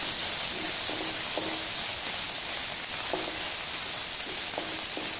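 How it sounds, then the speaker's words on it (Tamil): Mustard seeds splutter in hot oil with crushed ginger sautéing in the pan: a constant loud sizzle broken by scattered sharp pops throughout. "கடுகு பொரிய ஆரம்பிச்சிருச்சு"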